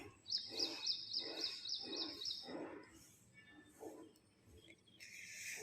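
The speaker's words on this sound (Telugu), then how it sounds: "వినిపిస్తున్నాయి కదా పక్షుల అరుపులు" Birds chirp outdoors in the morning in a village, in a quick repeated series of high calls, with scattered other calls and soft background noise.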